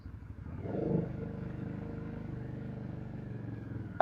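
A VOGE CU625 motorcycle pulls away in gear without throttle, its low engine note swelling briefly as it moves off, then settling into a steady, moderately loud drone close by.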